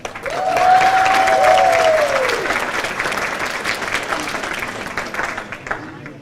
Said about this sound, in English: let's give him a nice round of applause for a 2269, Ken Wyatt.